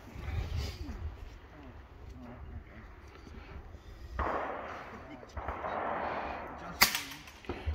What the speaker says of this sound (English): Solid shot there, Charles.